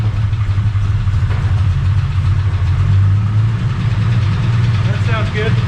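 Drift car engine running in gear, a loud steady low rumble throughout that rises slightly near the end, with a voice talking over it.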